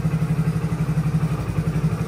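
A village motorcycle engine runs close by with a fast, even putter of regular low pulses, steady and loud throughout.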